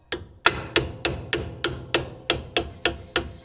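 A hammer strikes a 7200 planter about a dozen times in a steady, evenly spaced rhythm, each blow a sharp, close, ringing knock with no speech.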